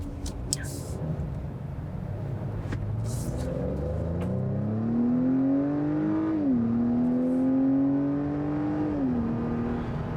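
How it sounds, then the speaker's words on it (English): An Acura TLX with its base engine accelerates, the engine note rising steadily in pitch, dipping briefly at a gear change and then climbing again, close and fairly loud with light background noise. "I think a lot of people are going to be impressed with how well the TLX accelerates"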